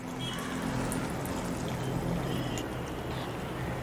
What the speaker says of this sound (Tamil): இப்போ இதில் தேவையான அளவுக்கு ஹாட் வாட்டர் சேர்த்துக்கலாம்.